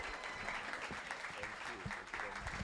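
An audience at a seminar claps continuously, a dense steady patter of many hands with a few cheers and voices mixed in.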